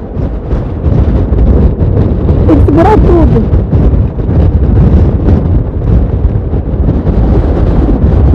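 Heavy wind roars and buffets a microphone while riding a motorcycle on a gravel road, a loud, constant rushing that nearly buries a man's brief spoken words.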